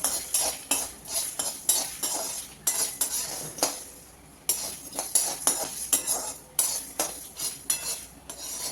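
A metal spoon stirs dried red chillies and fenugreek seeds roasting in a pan, making quick repeated clinks and scrapes in an uneven rhythm. The sounds are close and fairly loud, with one brief pause midway.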